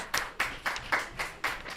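A small audience gives brief applause for the NJHS president and vice president. It comes as about six evenly spaced, sharp claps, close and fairly quiet, with nothing else heard.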